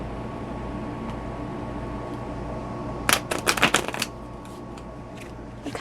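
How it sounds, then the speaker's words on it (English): A deck of cards riffle-shuffled in one quick burst of crisp fluttering clicks, close up, over a steady low background hum, then quiet again. "Let's give it a shuffle."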